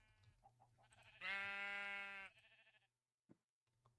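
A single sheep bleats in a Minecraft-style video game, one loud, sustained, wavering call lasting about a second, followed by a short click and faint game sounds in a quiet background.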